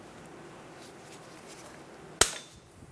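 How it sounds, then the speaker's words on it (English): One sharp snap from tool cutters as a metal tab is clipped off a Toyota Tundra wheel hub, a sudden close crack that rings out briefly over a quiet shop background. "I'm going to cut this tab off."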